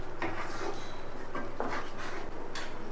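A spoon scrapes and clinks against a pot of coconut milk fish gravy in irregular strokes, close and fairly quiet.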